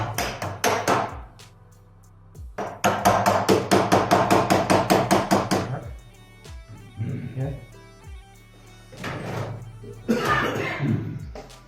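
Fast, repeated metal-on-metal hammer blows come in bursts, near and loud, with people talking between the strikes.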